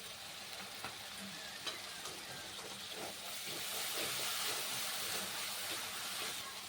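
Tomato paste with spices fries in a pan for potol malaikari, giving a constant hissing sizzle with faint stirring scrapes, steady and fairly quiet throughout.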